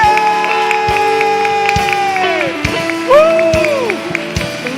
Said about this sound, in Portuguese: Só você que crê, dê um aplauso bem forte a Ele!